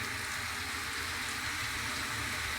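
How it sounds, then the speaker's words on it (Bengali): Wind-driven rain in Darjeeling, a continuous dense patter and hiss of drops striking surfaces, steady and fairly close with no voices. "বাতাস সঙ্গে বৃষ্টি"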